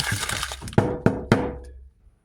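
Several sharp cracking thunks in quick succession, frozen burger patties being snapped apart, close up, fading to quiet.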